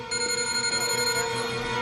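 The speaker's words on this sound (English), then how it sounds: "the beeps are the beat" A steady electronic alarm tone from a TV scene rings continuously with a harsh, buzzy edge, loud and close, no voices.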